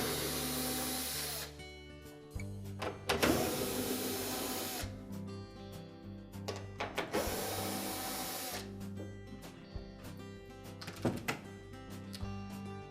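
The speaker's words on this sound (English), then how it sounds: "we'll start the repair by removing 3 screws that secure the console to the back panel" A power driver whirs in repeated bursts, backing out quarter-inch hex head screws from the console of a GE washer, with short clicks and clatter between runs and no talking.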